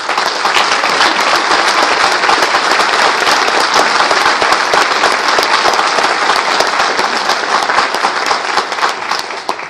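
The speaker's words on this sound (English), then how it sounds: "could you please help me appreciate Jacob by giving him a round of applause?" Loud, sustained applause from a high school spring concert audience honoring a percussionist, a thick, even roar of many clapping hands that continues unbroken for nearly ten seconds.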